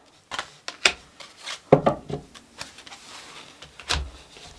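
Oracle cards being shuffled by hand, a series of irregular papery flicks and soft slaps with brief louder bursts, close and clear with no talking.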